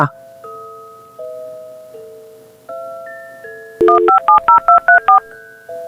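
A telephone number being dialed, with a run of about eight quick, loud, evenly spaced keypad tones following a few longer steady electronic tones, all close and clear.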